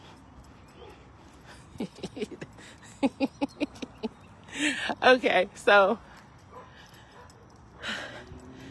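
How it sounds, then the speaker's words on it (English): A dog barks several times in a quick series, a bit distant as if from indoors, with a person talking over part of it. "He's inside the house. He's barking."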